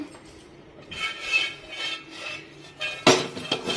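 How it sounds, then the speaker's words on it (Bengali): A metal tiffin bowl holding a steamed egg mixture with mustard oil gets its lid fitted and pressed shut: a few scraping metallic rubs, then a sharp clank and clinks near the end, close and fairly loud. "এই বাটিটা বন্ধ করে দেবো"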